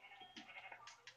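Several short, faint electronic sheep bleats in quick succession in Minecraft, thin and synthetic like a game sound effect.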